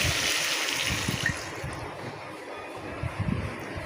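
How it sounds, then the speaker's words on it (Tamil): Water pours steadily into a cooking pan with a splashing, hissing rush, close by and continuous for a few seconds. "1 டம்ளர் தண்ணி ஊற்றி கொதிக்க விடுங்க"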